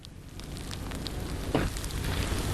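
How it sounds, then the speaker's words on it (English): Rain mixed with sleet pelts a jacket hood in a dense, steady patter heard right up close, a continuous crackling hiss with no one talking. "Hopefully you're able to hear that kind of pelting on my hood."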